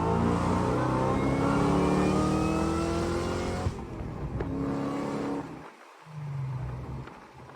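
Ford Mustang Cobra engine at a burnout contest, revving hard and loud for several seconds, cutting off abruptly, then a lower idle rumble returns after a brief pause.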